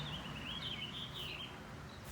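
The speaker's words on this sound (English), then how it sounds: "listen and you can hear the birds" Birds chirp and sing in a garden, a thin, wavering high warble running steadily throughout over a low background rumble, moderately distant and fairly quiet.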